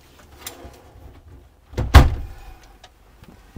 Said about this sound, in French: Je rentre dedans, hein, mais je referme la porte.